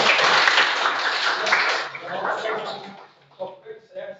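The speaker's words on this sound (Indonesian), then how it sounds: "Tepuk tangan untuk kalian." Students in a classroom clapping together, a loud burst of applause that thins out into scattered claps, with a voice speaking as it fades.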